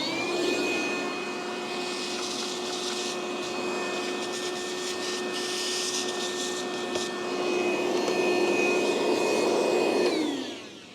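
A jigsaw fitted with a 10-tooth-per-inch wood blade cuts aluminum for kayak landing gear mounting on a NuCanoe Frontier 12, giving a steady, loud motor whine with buzzing cut noise that winds down at the end.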